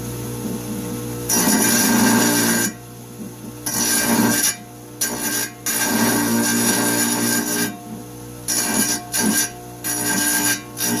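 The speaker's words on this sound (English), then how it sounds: "You can see I'm using the kerf of the saw, which is the side of the blade." A saw blade rasps against an alabaster bear carving, its side shaping the stone in repeated scraping strokes of varying length, close and fairly loud with brief pauses between passes.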